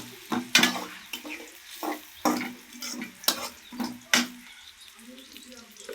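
Green chilies stirred in a frying pan during home cooking of a vegetarian dish, with repeated scraping strokes and short bursts of sizzle at an uneven pace, close by and fairly quiet.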